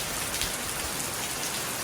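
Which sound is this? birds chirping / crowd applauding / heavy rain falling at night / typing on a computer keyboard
heavy rain falling at night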